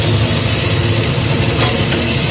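Onion, ginger-garlic paste and tomato sauté in a pan with a dense, loud, steady sizzle close by, briefly broken by a stirring scrape.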